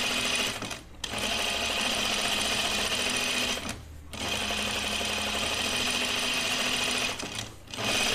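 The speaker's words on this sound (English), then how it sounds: "I'm gonna edge stitch this one." A sewing machine edge stitches fabric in long, steady runs, close and loud, with its fast mechanical chatter pausing briefly twice.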